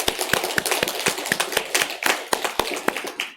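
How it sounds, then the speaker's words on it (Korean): A church congregation claps together in a Sunday worship service, loud, close, rhythmic unison claps at a steady beat of roughly three to four per second, with no talking. "우리 하나님께 감사와 영광의 박수를 올려드리겠습니다"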